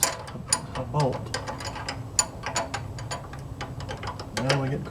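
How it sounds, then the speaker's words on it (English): Wrench ratcheting onto a bolt on an engine mount of a 4WD Daytona, heard as quick, irregular mechanical clicks and clatter, fairly close, with some background noise. "now jam this wrench onto this bolt."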